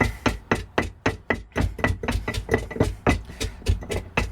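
Repeated heavy pounding thuds on cabbage for sauerkraut land in a steady, slightly uneven rhythm, each blow dull and damp as the cabbage turns mushy, close up with no talking.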